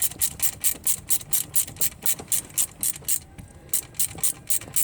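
Ratchet tightening a bolt on a Mercedes ML350, a brisk, regular run of close clicking strokes, about a dozen in quick rhythm with a short pause near the end, no talk.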